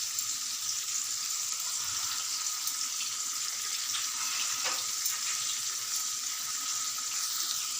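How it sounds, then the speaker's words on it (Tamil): Chicken tikka pieces sizzle in a pan as they are turned over, making a dense, even hiss throughout with a couple of faint clicks, close up and with no one speaking. "ஓப்பன் பண்ணிவிட்டு ஒவ்வொரு பீஸையும் அப்படியே திருப்பி போட்டுடலாம்."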